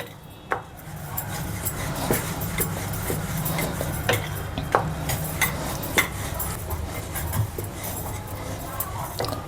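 Samosa dough balls rolled out one by one with a rolling pin on a board, giving soft irregular taps and knocks over a low steady background hum, with no talk.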